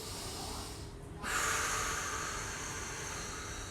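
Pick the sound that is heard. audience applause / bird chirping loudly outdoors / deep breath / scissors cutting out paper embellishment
deep breath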